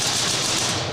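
Airsoft guns fire in a dense, continuous rattle during an extreme airsoft match, rapid bursts blending into one loud, steady stream of shots with no pause.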